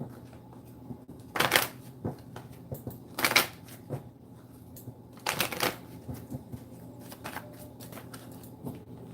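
Tarot cards shuffled in several distinct riffling bursts, crisp and close, separated by quiet pauses with faint handling noise.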